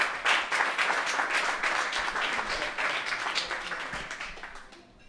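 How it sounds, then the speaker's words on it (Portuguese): An audience at a live comedy roast show applauds as the next roaster is welcomed; a full, dense round of clapping starts strong, then gradually thins and fades toward the end. "Por favor, aplausos para Tiago Costa."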